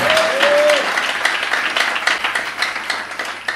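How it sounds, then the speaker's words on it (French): A church congregation applauds to acclaim the Lord, a loud dense wash of clapping from many hands, fading slightly with a brief tone at the start. "Je voudrais que nous acclamons le Seigneur."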